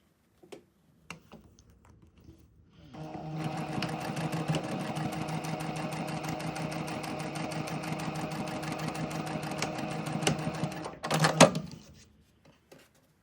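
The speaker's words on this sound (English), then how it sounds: "sew the 1 centimeter seam allowance here" A sewing machine stitches a 1 cm waistline seam, a close, steady mechanical whir lasting several seconds after a few quiet handling clicks, ending with brief clatter.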